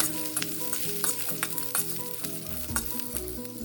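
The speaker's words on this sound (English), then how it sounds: "I'm going to toss in the ginger, not the garlic, just the ginger, and then the onion petals. Move it around a bit." Ginger and onion petals stirred and tossed in a hot pan for Indo-Chinese chilli paneer, with a steady close sizzle and periodic scraping clicks of the spatula; no one speaks.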